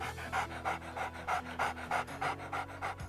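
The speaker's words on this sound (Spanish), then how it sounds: "Este jadeo es una de las estrategias que utilizan los perros para modular su temperatura." A dog pants rapidly and steadily, close up, with rhythmic quick breaths repeating evenly throughout.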